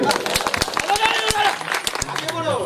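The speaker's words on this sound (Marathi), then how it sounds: "मी जरा टाळ्या द्या ह्याच्यासाठी" Audience at a Marathi poetry and song memorial gathering clapping in a scattered, uneven patter of hand claps, with a voice speaking loudly over it.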